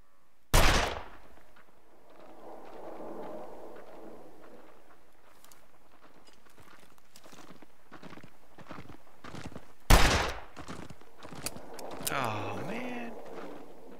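Two sharp, loud gunshots spaced far apart in The Long Dark, each a sudden crack that decays quickly, with quiet footsteps, ambience and someone speaking in between.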